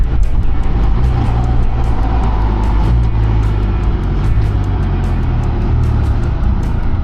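A Can-Am Spyder three-wheeled motorcycle on a ride to Seaside Heights, NJ, gives a loud, steady engine drone mixed with heavy wind rush, continuous and close throughout.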